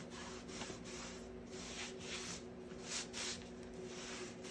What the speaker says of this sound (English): I can rub harder in some spots.